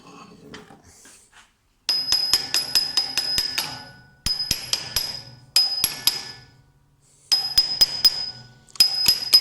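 Hammer blows ring out against the metal of a Land Rover Defender half-shaft during removal after its circlip is released, struck in rapid bursts of sharp, loud clanging hits with short pauses between volleys.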